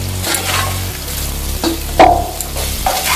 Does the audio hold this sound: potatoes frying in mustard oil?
yes